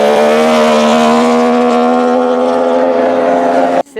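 Racing boat motors being tested and tuned out on the water give a loud, sustained droning whine at a steady pitch that cuts off abruptly at the end.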